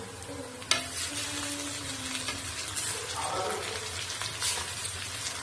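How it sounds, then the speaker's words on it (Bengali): Pieces of boal fish fry in oil with browned onions, making a steady, close sizzle with a sharp clack near the start and soft stirring throughout. "আগে মাথাগুলো দেবো, মাথাগুলো একটু ভাজা হোক"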